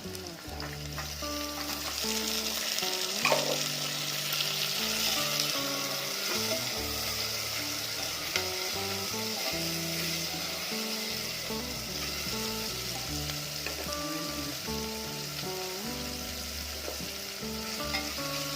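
Tomatoes and rock salt fry in a pan with a steady, moderately quiet sizzle, broken by intermittent stirring clinks and scrapes that go on throughout.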